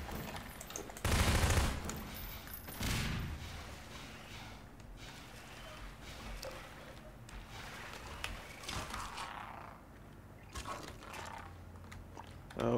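Pistol fire underwater in Half-Life 2: Episode Two, a few muffled bursty shots, the strongest near the start, over a low murky ambient wash with no voices.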